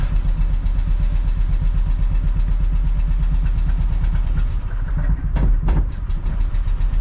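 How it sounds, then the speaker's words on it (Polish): An old Fiat 126p Maluch engine runs roughly on a single cylinder, a close, loud, pulsing chug with an uneven rhythm that briefly dips before a couple of sharper bursts; no voices. "Chodzi na jeden cylinder na pewno."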